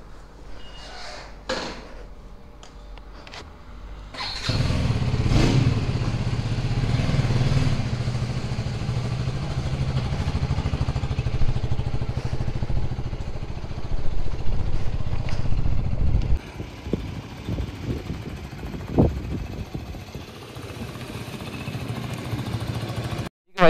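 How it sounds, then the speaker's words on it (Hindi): A new KTM Duke 250 Gen 3 motorcycle starts up and pulls away after delivery. The loud engine rumble holds steady for about ten seconds, then drops to lighter clatter and rattles as the bike moves off. "तो गाइस चलो फुल पावर निकलते हैं अब यहाँ से बाइक की डिलीवरी लेके भाई।"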